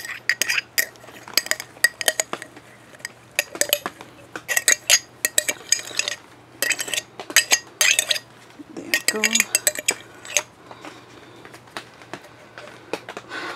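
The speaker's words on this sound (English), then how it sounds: "Just trying to scoop it out right now." Morel mushroom spawn is scooped out of a container with a utensil, making irregular bursts of close scraping, clinking and knocking against the container, separated by short quiet gaps over a faint low hum.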